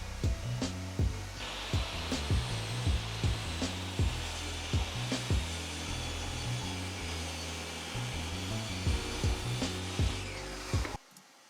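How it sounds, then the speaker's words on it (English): Table saw with a crosscut sled slicing wooden shelf stock to identical length, a steady loud motor whine broken by a series of repeated short cutting bursts, ending abruptly as the saw stops. "Using a combination of my table saw sled and a block on the fence, I could cut all my shelf stock to the same exact length."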